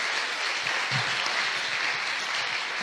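A church congregation gives a round of applause during a Sunday worship service. The dense, even clapping from a large room continues steadily throughout, with no voices over it.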